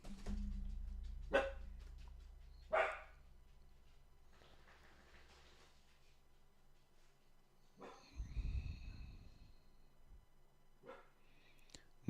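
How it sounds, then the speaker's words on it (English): A dog named Max barks a few times, spaced single barks at moderate distance over a low hum, with soft talking and a brief rumble in between. "He's been barking all morning"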